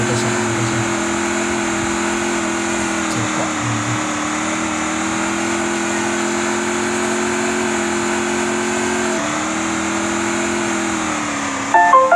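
A motorcycle engine drones steadily at an even pitch throughout, loud and close, with a slight dip near the ninth second and a brief burst of louder sound at the very end.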